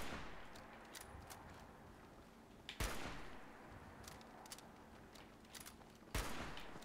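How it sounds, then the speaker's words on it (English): Gunfire in Fallout 76 while aiming for a headshot: two sharp, prominent shots a few seconds apart over scattered quieter pops and low ambient game noise, with no talk. "Let's do a headshot."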